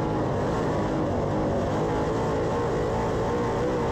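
A dirt track race car on a qualifying lap at Lakeside Speedway during the Jayhawk Classic gives a dense, continuous engine roar heard from a distance, with no breaks or voices.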